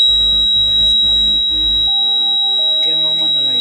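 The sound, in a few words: handbrake warning buzzer of a JCB backhoe loader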